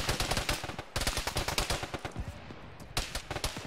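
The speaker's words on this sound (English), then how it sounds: "I hear all this shooting." Rapid bursts of automatic gunfire in an Arma 3 military firefight on Tanoa, with RPGs and grenades around, crackle loud and dense, with a brief lull before more volleys.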